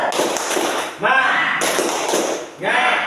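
Students in a classroom do a rhythmic clapping cheer, bursts of group claps and chanted voices rising and falling in three loud waves close by.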